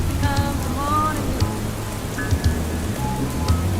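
Steady rain falls under a sped-up love-song playlist, a dense hiss of drops pattering through the mix while music and sung vocals play on top.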